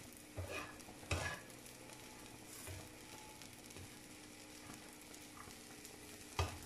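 Chana dal paratha filling with a splash of lemon juice fried and stirred in a pan, a faint steady sizzle with occasional louder scrapes and knocks of the spoon.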